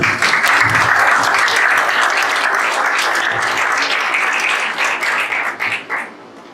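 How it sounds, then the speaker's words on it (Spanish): Loud, sustained applause from a church congregation fills the space with dense clapping, holding steady before tapering off near the end. "Denle un aplauso al Señor."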